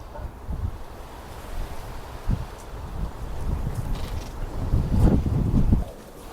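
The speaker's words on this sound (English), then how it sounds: "Oh, the wind's getting up now." Wind rising outdoors beside a compost heap, a steady rough rush with gusts swelling louder toward the end, buffeting close on the microphone with no talk.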